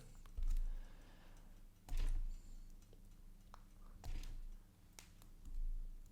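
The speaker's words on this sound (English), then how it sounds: "let's just trim a little bit off the ends there" Several sharp snips of wire cutters trimming wire ends on controller wiring during a soldering job, each a crisp isolated click with short pauses between, close and quiet, no talking.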